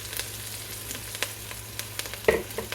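Kale frying in a pan with seasonings, a soft continuous sizzle broken by scattered scrapes and clicks as it is stirred, close and fairly quiet.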